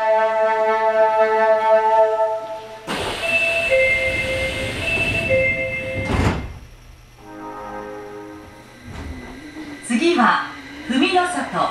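Osaka Metro Tanimachi Line 30000 series subway train at Abeno station, with a door chime, a loud rush of doors sliding and thudding shut, then motors whining up as it pulls away under station announcements.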